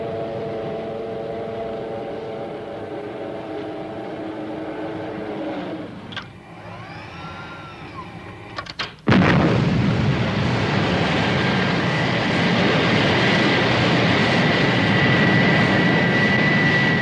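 A 1960s propeller aircraft idles with a steady engine drone, briefly falls quieter, then roars loudly to full power for takeoff from the runway and holds a strong continuous noise.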